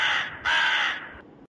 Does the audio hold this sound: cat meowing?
no